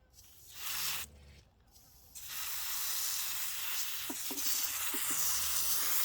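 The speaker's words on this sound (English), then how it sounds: "If the spray is too strong, I found a trick is to put your hand there and spray your hand and then let it drip in." A spray bottle mists water onto an air layer on a quince tree, giving a few hissing bursts before a long, steady hiss of spray, close by and fairly quiet.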